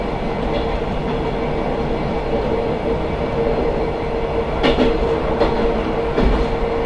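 Inside the cab of an ED9M electric commuter train coasting down a steep grade: a steady rumbling roll with rhythmic clicks of wheels over rail joints, heard close and continuous.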